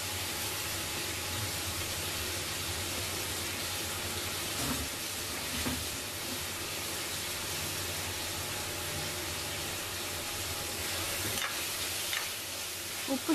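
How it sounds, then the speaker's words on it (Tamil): Ingredients for goat trotter soup sautéing in a pan: steady, faint hissing sizzle with occasional soft stirring scrapes throughout, with no voices. "இதெல்லாமே இப்போ நல்லா வதங்கட்டும்."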